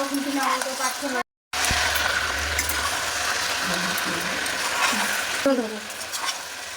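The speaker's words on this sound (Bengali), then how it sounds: "এবার আমরা মশলাটা পুরো মিক্স করে দেবো" Spiced mutton curry with masala being stirred in a pan, a steady scraping and sizzling that runs close and loud nearly throughout, with a brief break and light talk near the start and end.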